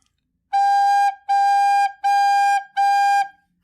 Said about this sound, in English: Measure 5 has 4 quarter notes. Quarter notes get 1 beat or 1 tap of your foot. All 4 notes are also Gs.